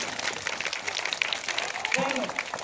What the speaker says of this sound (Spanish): quiero que nos brindemos un fuerte aplauso,